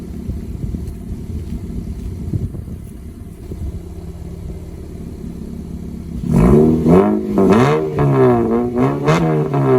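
A 2019 Acura TLX with remote exhaust cutouts open idles with a steady low rumble, then, about six seconds in, revs loudly several times with rising and falling engine pitch, close and alone.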